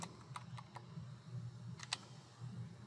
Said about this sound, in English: By typing in the word green,